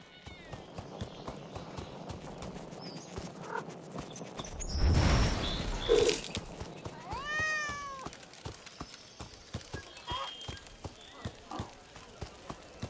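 A cat meows in the video game Sir Whoopass: Immortal Death, a few rising, whining calls near the middle of the clip. Footsteps and other game sounds run underneath, with a brief louder rush just before the calls.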